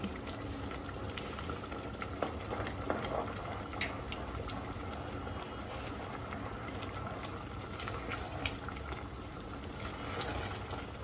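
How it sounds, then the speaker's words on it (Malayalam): Jackfruit payasam bubbling as it boils down and thickens in milk, a steady close simmering hiss with small irregular pops throughout, no one talking. "ഇത് തിളച്ചൊന്ന് കുറുകി വരുമ്പോൾ 1-ാം പാൽ ഒഴിച്ച് കൊടുക്കും."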